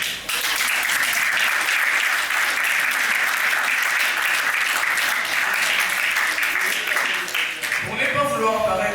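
An audience at a French-language eloquence contest semifinal applauds loudly and continuously for several seconds, the dense clapping fading out just before a voice begins to speak.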